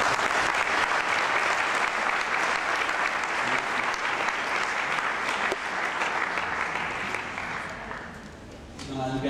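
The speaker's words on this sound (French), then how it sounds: "Applaudissements." Sustained applause from a seated audience at a church seminar during a mission in Mexico, steady and dense for about eight seconds before tapering off near the end.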